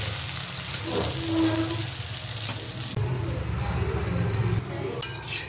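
A tomato thokku and egg omelette fries in a pan with a steady close sizzle and soft utensil clinks. A faint voice is heard briefly under the frying.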